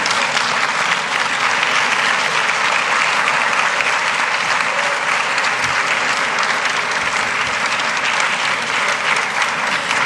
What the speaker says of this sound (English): Can we rise and pay a proper round of applause